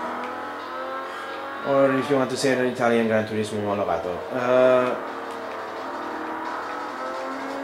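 A Ferrari 250 California in Forza Motorsport 3 revs and climbs through its gears in rising engine sweeps, with someone talking over it throughout.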